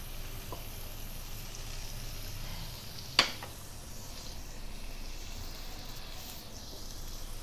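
Sambal fries gently in a pan over low heat, giving a soft, steady sizzle throughout, broken once by a sharp utensil click near the middle.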